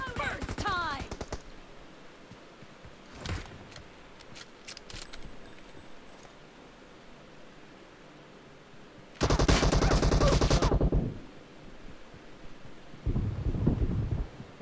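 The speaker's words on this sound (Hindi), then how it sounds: "अरे भाई शॉट गन" Shotgun blasts in a video game, a loud dense burst of gunfire near the middle and a shorter one near the end, with sparse fainter sounds between and a brief voice-like trace at the start.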